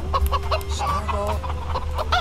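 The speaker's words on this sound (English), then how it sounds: "This is Charles the evil chicken." A chicken in The Sims 3 farming play clucks in short repeated bursts, fairly loud and close, over a steady game background hum.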